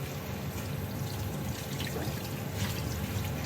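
Tap water running steadily over a crate being washed in a home kitchen sink, a soft continuous splashing with no talk.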